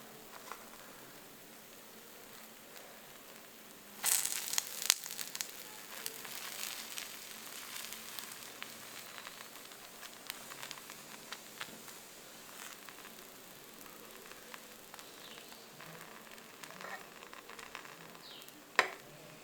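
A soft sizzle starts suddenly as an egg lands on a chila in a hot pan, then settles into a faint, steady frying hiss with small crackles and a few sharp pops.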